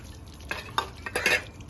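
Vegetable curry is stirred in a pan during home cooking, a few quick scraping strokes over a faint sizzle, close but quiet, with no voices.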